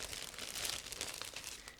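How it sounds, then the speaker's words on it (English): Close, quiet crinkling and rustling of a plastic bag being opened around gray plastic sprues from an Eduard 1/72 Bf 110E model kit, a continuous papery crackle with no talk. "I'm opening the plastic bag with gray plastic sprues"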